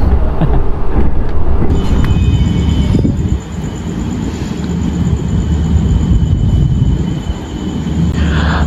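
The Jayabaya passenger train from Jakarta to Malang rolls into Tegal station, a loud, continuous rumble of wheels and carriages with a thin, high metallic whine running steadily over it.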